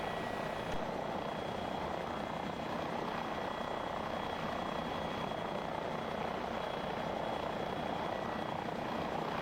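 A UH-1N helicopter in the FlightGear flight simulator drones with a steady, continuous rotor and engine roar, loud and unbroken throughout.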